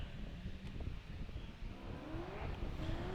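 A Chevrolet Corvette C6 drift car revs and rises in pitch during Formula Drift qualifying in Atlanta, its engine note climbing in repeated sweeps against a steady background roar of the track.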